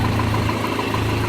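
Mitsubishi Canter 4WD truck engine idling steadily after a jump start, a loud, even diesel rumble with a low throb that continues throughout, alone with no voices.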